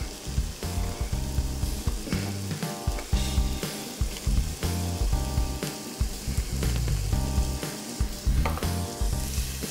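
Shallot, carrot and onions sizzle gently in a pan over low heat, a continuous crackling fry with clinking and scraping as they are stirred, close and fairly quiet with no talking.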